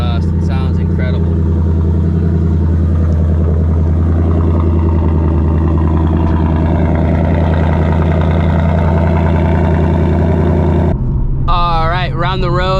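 A 2024 Ford Mustang GT V8 with active exhaust rumbles steadily at a loud, constant drone while driving, with a brief gap near the end as the tone shifts.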